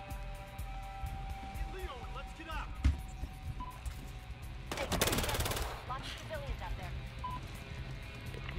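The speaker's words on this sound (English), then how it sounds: "Tell that to the asshole shooting up the place." Battlefield Hardline campaign gunfire: a sharp single shot, then a dense burst of automatic fire midway, set under game dialogue and background noise.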